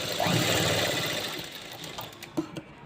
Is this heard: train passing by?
no